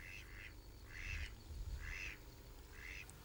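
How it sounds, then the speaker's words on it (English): Greylag geese call on the Norfolk coast: four short nasal honks in an even rhythm, moderately distant, over low outdoor rumble with no voices. "The grey lag goose, now a common Norfolk resident."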